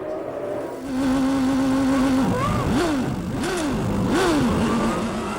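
Formula 1 cars launching off the grid at a 1993 race: a high engine whine holds, then several cars scream past, their revs rising and dropping in repeated gear-change sweeps, loud and close, with crowd and track noise behind.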